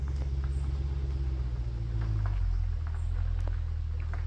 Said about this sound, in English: Sounds lovely. Big V8 in it.